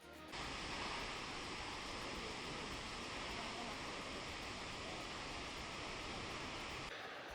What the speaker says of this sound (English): This is a 442-foot waterfall.